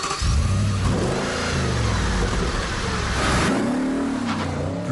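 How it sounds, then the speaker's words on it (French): An Audi RS4 with a 4.2-litre 420 hp V8 revs hard through its dual exhaust, a loud, close engine roar that climbs and falls in pitch with two rising surges. "le son démoniaque qui s'échappe de son double échappement"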